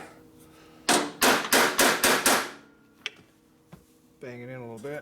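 A hammer taps a part into place on a 1957 Harley-Davidson panhead engine, six sharp, evenly spaced metallic strikes up close, followed by a couple of faint knocks and a brief voice.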